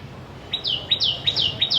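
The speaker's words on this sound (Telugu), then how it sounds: "ఎంత బాగా అరుస్తుందో చూడండి అక్కడ కూర్చుంది పక్షి" A bird perched near a rooftop garden repeats a sharp, descending chirp about five times in quick, even succession, clear and close against a quiet background.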